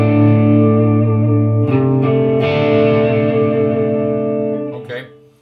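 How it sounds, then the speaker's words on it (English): An electric guitar played through a multi-effect pedal's overdrive distortion model rings out a loud, sustained, gritty chord, shifting twice early on before ringing and fading away at the end. "So it says this is an overdrive pedal."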